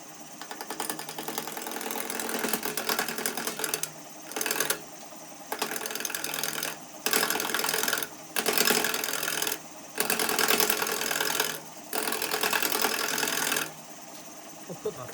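A wood lathe at 1000 RPM roughs a 2x4 goblet blank, making a loud, buzzing mechanical whir that comes in repeated bursts of a second or two, broken by short near-silent pauses.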